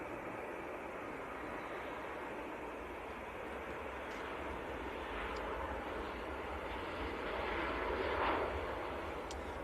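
An easyJet Airbus A320 from Paris Charles de Gaulle arriving at Manchester Airport in freezing weather, its engine roar moderate and distant, swelling gradually toward the end.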